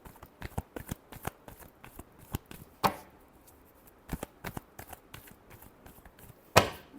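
Tarot cards are shuffled by hand in a quick run of close, crisp riffles and taps, with a couple of sharper slaps, quiet overall and without talk.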